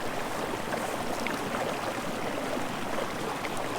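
Continuous broadband rushing of a flowing creek in the Golden Trout Wilderness, steady and close, with no voices.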